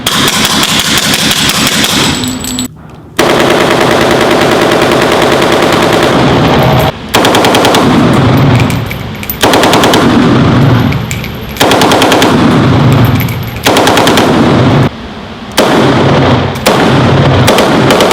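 Machine guns fire in long, loud, rapid bursts outdoors at a shooting range, separated by brief pauses, with a sharp crackling rattle throughout.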